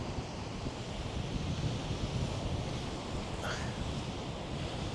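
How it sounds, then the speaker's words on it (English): Sea surf rolling steadily along the Fleetwood seafront, a continuous broad wash of waves with gusts of wind buffeting the microphone, close and fairly loud with no voices. "I love listening to the sea."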